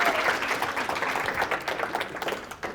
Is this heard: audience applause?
yes